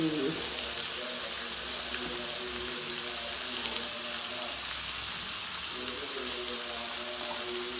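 Steady hissing sizzle of tempering spices and red chilli frying in hot oil, continuous and fairly loud throughout, with faint clatter in the background.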